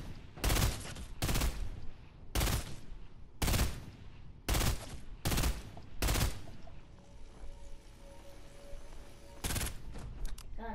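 Burst-fire weapon shooting in Fortnite, firing three bullets per trigger pull: seven loud, evenly spaced bursts in quick succession, then a pause and one final burst, with no voices.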